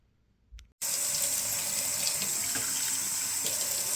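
After a brief soft clatter, a kitchen tap suddenly opens and water pours steadily and loudly into a one-cup measuring cup while mixing waffle batter, rushing alone without speech.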